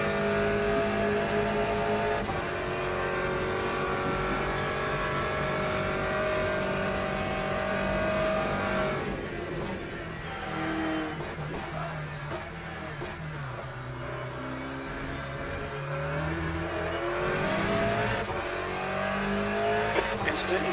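Aston Martin GTE race car in Le Mans Ultimate braking hard for a chicane, engine note dropping through downshifts with brief tire squeal, steady and close, under a radio voice talking.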